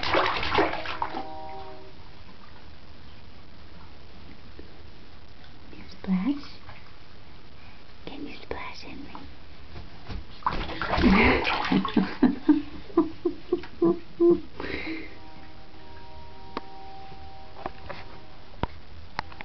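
A child splashing water in a bathtub, with a bursty run of close splashes in the middle and quieter water movement around it, while a voice talks at times.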